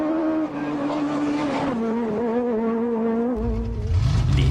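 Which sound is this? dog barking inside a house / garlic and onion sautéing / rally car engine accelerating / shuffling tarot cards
rally car engine accelerating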